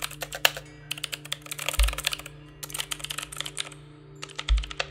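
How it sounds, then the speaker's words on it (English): Fast typing on a computer keyboard, with dense bursts of crisp key taps and clicks broken by short pauses and a couple of heavier low thumps, close up and alone. "tapping and clicking on the keyboard as if she were born to do it."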